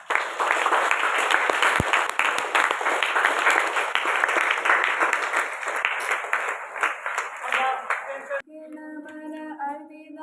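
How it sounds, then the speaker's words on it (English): A school audience claps for student performers at a Science Day program, dense and sustained for about eight seconds, then stops abruptly as group singing begins. "Let's give them a clap."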